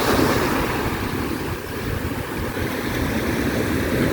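Ocean waves wash onto the shore at the seaside at dawn, a continuous broad roar of surf mixed with wind buffeting the microphone, loud and close with no talk.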